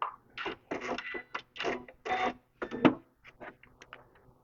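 A sewing machine stitches a faux embossed leather bag tag in uneven bursts of rapid mechanical clatter, close and fairly loud, pausing and restarting several times.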